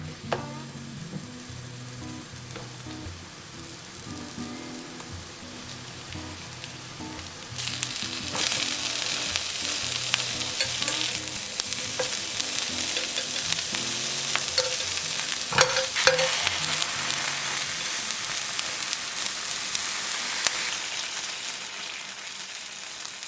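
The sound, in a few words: eggplant slices frying in olive oil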